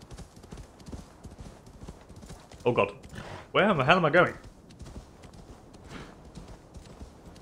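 Horse hooves clip-clopping at a gallop in Assassin's Creed Valhalla, two loud bursts of rapid hoofbeats over a steady game ambience, with someone talking in between.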